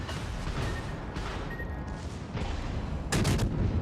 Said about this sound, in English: I think my secondaries are opening up on them now.